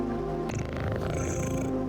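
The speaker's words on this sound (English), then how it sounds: "We rub ourselves against their legs and purr in a most insistent manner" A cat purrs steadily and close up in the indie game OFF, a continuous low rumbling vibration that carries on without a break.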